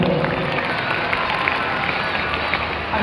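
Audience applause at a school program, a dense, steady wash of clapping from a large crowd that holds at a constant level throughout.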